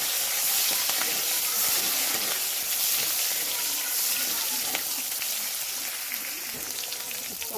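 Chopped green chilies and black cumin frying in a pan, a loud, steady hiss and sizzle of hot oil filling the whole stretch with no talk.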